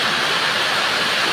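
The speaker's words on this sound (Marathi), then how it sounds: "मुसळधार पाऊस सुरू" A heavy monsoon downpour in a village pours down as a loud, dense, unbroken roar of rain, with no voices.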